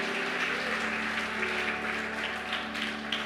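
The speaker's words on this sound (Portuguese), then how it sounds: "Dá um aplauso para Jesus aí" A church congregation applauds during a worship service, a steady wash of many hands clapping together at moderate level with no talk, continuous throughout.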